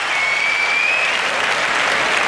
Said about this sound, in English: the crowd, as we can hear, absolutely getting behind them